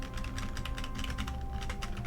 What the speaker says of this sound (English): I was very particular about this membrane keyboard